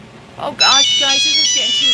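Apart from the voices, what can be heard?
mobile phone ringtone ringing loudly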